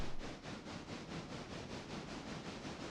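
A big steam locomotive pushing three freight cars vents steam in a quick, even series of soft hissing chuffs, fairly faint and heard on its own without talk.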